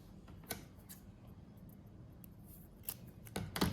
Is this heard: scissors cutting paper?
yes